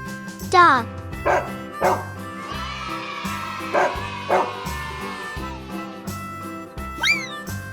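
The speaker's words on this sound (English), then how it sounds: "Dog." A dog gives several short, sharp barks at a steady pace, close and clear over light children's background music in a farm-animal lesson for kids.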